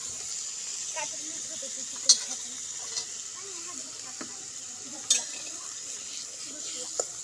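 Grated coconut is sautéed in a pan for a red fish curry, a faint low sizzle with a few sharp spatula clinks against the pan spread across the stretch.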